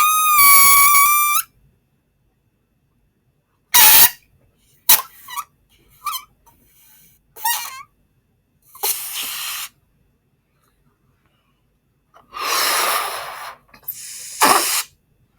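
Air escaping from a balloon, heard as several separate releases: a shrill squealing whistle at the start, then shorter hissing sputters and rasping bursts separated by silences.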